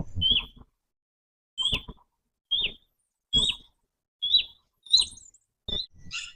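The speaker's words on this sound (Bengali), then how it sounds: "পাখির ডাক" Birds sing in a park at dawn, with repeated short chirps and tweets arriving in spaced bursts about once a second. The calls are fairly close and clear against a quiet background, with no voices.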